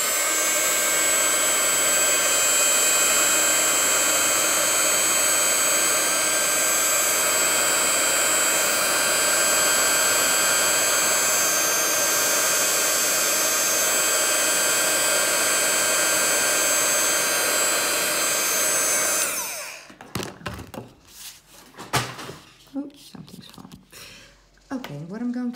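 Embossing heat tool blowing hot air over hand lettering, a loud steady whooshing roar held for nearly twenty seconds before it cuts off abruptly, after which faint handling sounds and speech follow.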